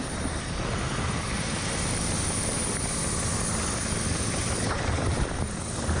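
A helicopter flies during a flood rescue in Turkey's Black Sea region, a steady, loud, close rotor and engine roar filling the whole stretch with no talking.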